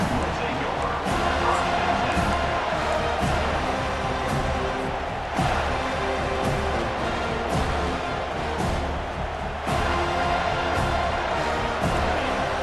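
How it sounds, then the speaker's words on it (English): A football stadium crowd roars and cheers in a steady, loud wall of noise that lasts throughout, with a commentator talking over it. "This crowd trying to show them what it's going to be like all day in this house."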